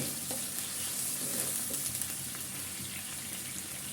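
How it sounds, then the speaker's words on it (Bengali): Potato pieces sizzle in a pan for a mixed vegetable recipe, with a steady close frying hiss and repeated scraping strokes as they are stirred. "আলুটা একটু ভেজে নেব"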